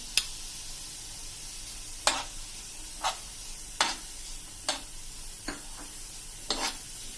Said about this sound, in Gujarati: હવે એમાં આપણે આ 3 ટેબલ સ્પૂન કેપ્સિકમ મેં સમાર્યા છે ઝીણા એ એડ કરી દેશું